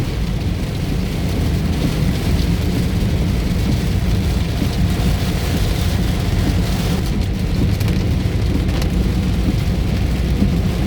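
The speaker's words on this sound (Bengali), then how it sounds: "দারুণ বৃষ্টি চলছে" A downpour drums on the Cumilla–Dhaka road, unbroken and loud for the whole stretch, its thick hiss layered over a low, thunder-like rumble, with no one speaking.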